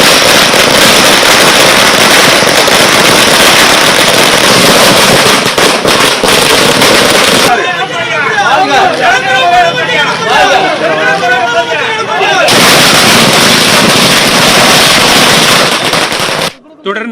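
AIADMK party workers gathered outside their party office set off firecrackers in celebration, making a loud, dense, continuous crackle with one short lull, over a babble of crowd voices.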